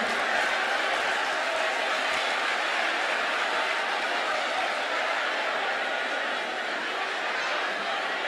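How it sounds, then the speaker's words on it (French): Steady, dense applause from a large crowd at the Miss Togo 2024 pageant fills the whole stretch at an even level, with a faint murmur of voices beneath. "on les encourage avec des applaudissements"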